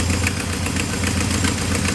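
A big block engine idles in a Squarebody truck that has not run in a long time and may have a cracked manifold, giving a steady close low rumble with a rapid even pulsing beat and no talk.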